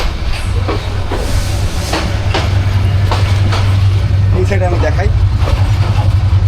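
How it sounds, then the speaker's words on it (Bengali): The Burimari Express pulls out of Rangpur toward Santahar, its wheels clacking in a rhythmic series over a loud, constant rumble of the moving carriage, with someone talking close by. "ফাইনালি আমাদের ট্রেন ছেড়ে দিল, আমরা এখন যাচ্ছি সান্তাহার"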